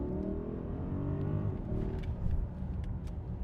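A Mercedes-Benz GLS 580 accelerates hard out of a corner, its engine note rising in a rough, loud roar heard from inside the cabin, with a brief surge partway through and no talking.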